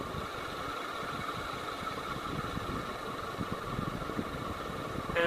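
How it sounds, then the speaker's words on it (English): A 36-inch SMC Laguna ceiling fan motor runs with a steady, even hum and faint whirring tones, a constant close drone with no talking. "And I'll have you hear the motor."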